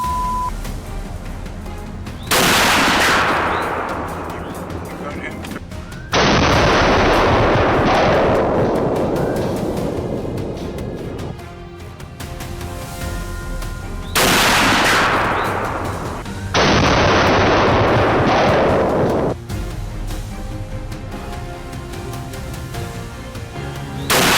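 Heavy gunfire during a wild boar hunt: a series of loud, booming shots with long rolling echoes, each blast ringing out and decaying before the next, dominating the scene.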